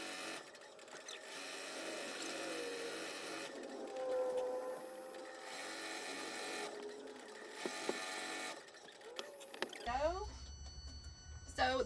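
An embroidery machine stitches out a shirt on crinkled stabilizer with a steady, fast mechanical buzz that pauses and restarts in bursts, ending in a sharper rattling stretch.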